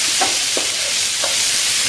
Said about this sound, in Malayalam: ഒന്ന് ഇളക്കിയാൽ മതി